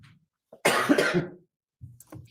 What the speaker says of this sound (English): I've been coughing all weekend